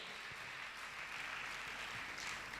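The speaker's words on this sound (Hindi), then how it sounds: "जोरदार ताली बजाकर इनका सम्मान करें" Sustained applause from an audience at a Jain religious gathering in Indore, a dense even wash of clapping that stays faint and distant.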